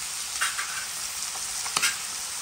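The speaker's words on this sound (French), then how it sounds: "Je retourne le jambon." Ham frying in a pan, a steady broad sizzle close by with a few scraping, clattering stirs as the pieces are turned over.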